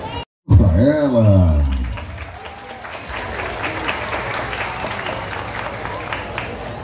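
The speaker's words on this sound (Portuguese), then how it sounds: "Aplausos para ela." Audience applause fills a hall at a school ceremony where the mayor hands gifts to a teacher, a steady mass of clapping with crowd noise after a brief burst of loudspeaker feedback and a short dropout at the start.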